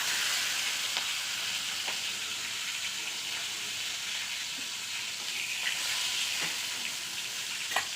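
Fish heads coated in turmeric and salt sizzle steadily in hot mustard oil in a kadai, a dense, even frying hiss throughout with a few faint pops and clinks.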